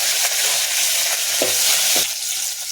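Curry leaves and green chillies fry in sesame oil for a mutton curry, a dense, steady sizzling hiss with a few soft stirring taps, close and continuous with no talk.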